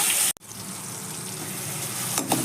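Mustard seeds, asafoetida and curry leaves hit hot oil, giving a loud, steady sizzle that cuts out briefly, resumes and carries on close up, with no talking.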